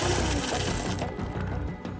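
A food processor blends caramelised almonds and hazelnuts into praline paste, giving a loud, steady mechanical whir with rattling, grinding texture that runs continuously throughout.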